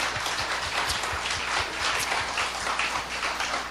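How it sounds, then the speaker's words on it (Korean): A church congregation at a patriotic lecture claps in thanks to God, a continuous dense patter with soft low thumps running through it. "우리는 하나님께 우리 감사의 박수"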